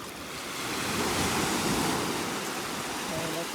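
Indian Ocean waves wash over bare feet at Coco Beach in Dar es Salaam, Tanzania, making a close, steady rushing hiss that swells in the middle and then eases.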